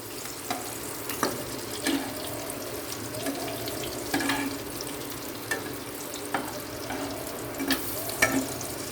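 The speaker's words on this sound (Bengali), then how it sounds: "এবার এটা এই যে উল্টে দেব, এইভাবে উল্টে ভাজা করে নেব" Egg, paneer and raw banana tikki fry in a pan with a soft, steady sizzle, broken by occasional sharp clicks and scrapes of a utensil turning the patties; no one speaks.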